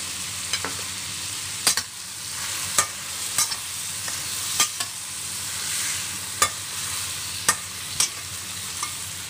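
Shrimp and shrimp paste (bagoong) for pinakbet fry in a pan with a steady close sizzle, broken by repeated sharp clinks and scrapes of a utensil stirring, about a dozen across the stretch, with no voices.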